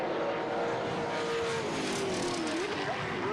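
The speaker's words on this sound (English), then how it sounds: "That's a great sound of the cars coming into the braking area for turn 1 there at the Southern Loop" V8 race cars at Teretonga's Southern Loop brake hard into turn 1, their engines roaring loudly with descending pitch as they downshift, a continuous close-up racing din with faint tire noise.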